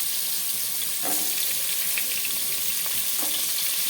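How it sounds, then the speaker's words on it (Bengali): Carrots and potatoes fry together in oil, browning to a reddish colour for a biriyani-style khichdi, giving a steady, dense sizzling hiss that holds throughout with a few faint clicks and no talking. "গাজর আর আলুটা আমি একসাথে ভেজে নিচ্ছি লালচে লালচে করে ভেজে নেব"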